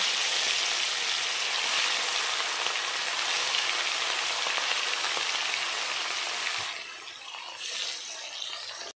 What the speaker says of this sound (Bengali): এবার মাছগুলো আমি হালকা করে ভেজে নেব।